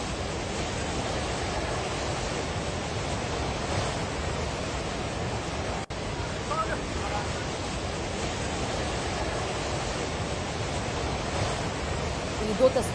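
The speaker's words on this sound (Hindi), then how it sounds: "जिस नदी में ये बाढ़ का आप सैलाब देख रहे हैं, पानी का ये सैलाब देख रहे हैं" Floodwater rushing down a river in Nepal, a steady, loud, broadband roar that continues unbroken from start to end.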